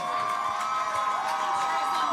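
A crowd cheers at a 7th and 8th grade boys' middle school football game, a steady, fairly loud roar of voices and whoops with no break, heard from within the stands.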